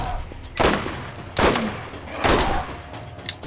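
Three loud, sharp sniper rifle shots in the video game Borderlands, spaced about a second apart, each a broadband crack with a short echoing tail over low background game ambience.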